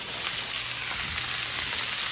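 Cabbage and bok choy frying in reheated high-temperature oil in a pan, a loud steady sizzle with no pauses, close up.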